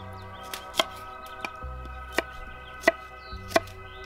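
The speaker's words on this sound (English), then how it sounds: "Now I'm going to chop up some green garlic to throw in there" Green garlic being chopped with a knife on a cutting board for a salsa, sharp separate thunks landing irregularly about every half second to second, close and clear with no talk.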